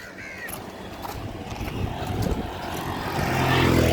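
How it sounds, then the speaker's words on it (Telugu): Strong wind blows hard at Dhanushkodi near Rameswaram, roaring and buffeting close up and growing louder toward the end. "గాలి బీభత్సంగా ఉంది."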